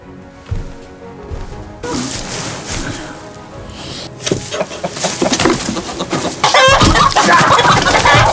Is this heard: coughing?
no